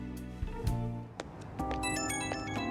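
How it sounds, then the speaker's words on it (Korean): A phone rings in the Persona 5 Royal video game, a bright electronic ringtone that begins midway and repeats in short pulses after a few sharp menu-like clicks and thumps, set over a steady low background hum. "전화다."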